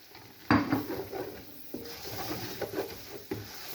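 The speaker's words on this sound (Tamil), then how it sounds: "இனி புதினா இலையையும் இதையும் போடும். வதக்கு." Mint leaves are sautéed in hot oil in a pan, with a steady soft sizzle and scraping stirs and knocks at a few points. No one speaks.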